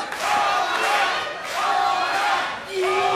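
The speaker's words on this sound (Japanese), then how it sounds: "歓声が送られています。" Crowd cheering and shouting at a professional wrestling match in Korakuen Hall, a loud, sustained roar swelling and dipping over three seconds with scattered voices rising above it.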